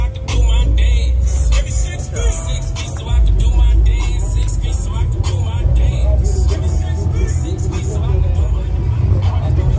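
Heavy street traffic near Sacramento Raceway during drag races: a loud, continuous rumble of cars and larger vehicles rolling past, with engine roar swelling and easing throughout and voices faintly beneath.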